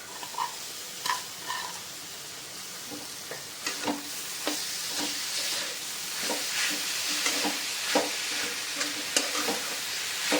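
Grated coconut is stirred into melted jaggery for modak filling, a spatula scraping and knocking in a rhythmic series over a soft continuous hiss of the hot pan, close, no talking.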